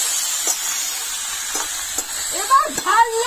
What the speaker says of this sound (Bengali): কড়াতে লাউ পড়ে গেল বন্ধুরা লাউ চিংড়ির জন্য